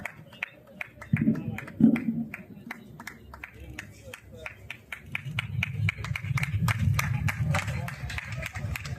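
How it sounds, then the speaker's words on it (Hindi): An audience at a hospital opening ceremony breaks into scattered clapping that swells into sustained applause, with a voice speaking over the start. "एक जोरदार ताली हमारे भाई पिंटू जी के लिए"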